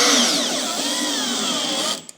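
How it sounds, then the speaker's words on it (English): A power drill blasts at a nut held with a wrench on a GLI diffuser, a loud continuous whining motor with sliding pitch that runs for about two seconds before stopping abruptly with a small clack. "put the wrench on the top, and then blast it from the bottom and hold the drill very awkwardly"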